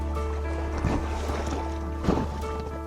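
A Black Boat 240 fishing boat is lowered onto a lake, with a steady low hum beneath and two distinct splashing thumps of the hull meeting the water, the second slightly louder.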